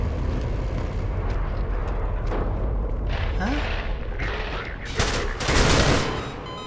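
Half-Life 2 with a cinematic mod on a rooftop, where enemy gunfire sprays at the player in loud bursts and rattling volleys, building to a heavier burst near the end over a rumbling background, with a voice talking intermittently.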